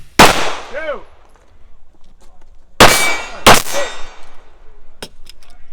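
AREX Delta M pistol fired at steel targets during an action shooting match: sharp, loud shots each followed by a ringing metallic clang, three main shots spaced apart and a faint later shot, close to the shooter.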